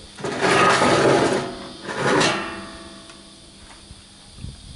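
Welding on a metal box, heard as two crackling, buzzing bursts of weld, the first about a second long and the second shorter, close and fairly loud, with quieter workshop noise between them.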